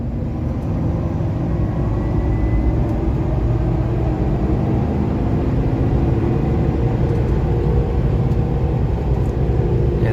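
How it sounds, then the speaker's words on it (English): A supercharged Chevrolet Silverado 5.3 Trail Boss rumbling steadily, heard from inside the cab as a loud, continuous low drone with road noise and no clear rise in pitch, without talking. "Let me just rev it up a little for you guys so you can see."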